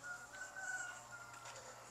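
Chickens on a poultry farm cluck and murmur steadily in the background, a continuous low flock chatter with a faint drawn-out call, no talking.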